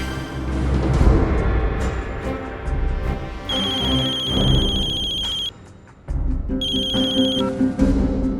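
A telephone rings in two bursts of bright electronic ringtone over a dramatic TV-serial music bed, loud and close, with a brief pause between the rings.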